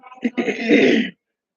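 A single harsh, rough cough or throat-clearing burst, close and fairly loud, lasting about a second before silence.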